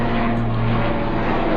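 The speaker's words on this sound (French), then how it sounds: "j'ai un hélicoptère qui passe au-dessus" A private helicopter passes overhead indoors, a loud steady droning rumble with low rotor hum that holds constant for the whole moment, near enough to rattle windows.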